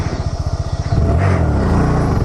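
A Honda Grom motorcycle in first gear with the clutch in idles with a steady pulsing putter, then revs up into a loud, sustained, close engine drone.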